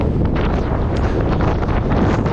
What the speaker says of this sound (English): Quite the headwind now